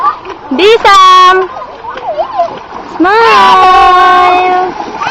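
Kids and adults bathing in river water at Wawa, Montalban, Rizal, with splashing under loud, excited shouting and chatter from several nearby voices.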